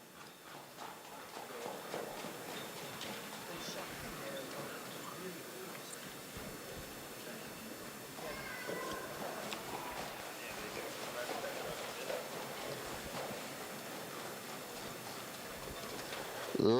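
Hooves of a two-year-old harness filly by A Masterpiece being driven, a steady clip-clop at a brisk trotting rhythm over a continuous background, with someone talking over it.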